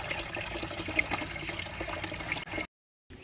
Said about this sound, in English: I'm going to drain out everything that I sprayed on the roof and throw it in my trough for watering the garden